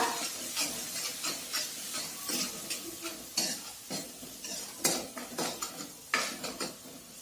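Vegetable mixture of cauliflower, potato and peas being stirred in a pan, with repeated scraping clinks of a spoon against metal and a soft sizzle, steady rhythmic strokes close up with no talking.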